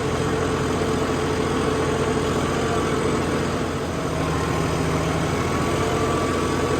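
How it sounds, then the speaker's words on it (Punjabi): A John Deere 5405 4WD tractor engine runs steadily at around 1700 rpm, a smooth continuous diesel drone close by with no talking. "ਬਿਲਕੁਲ ਕਾਰ ਵਾਂਗੂ ਚੱਲਦਾ ਟਰੈਕਟਰ"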